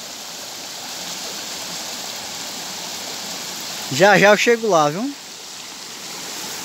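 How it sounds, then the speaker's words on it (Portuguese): Steady broadband rush of a waterfall and clear stream water flowing outdoors, continuous and fairly loud throughout, with someone speaking briefly over it near the end. "É a cachoeira lá em cima, pessoal, olha."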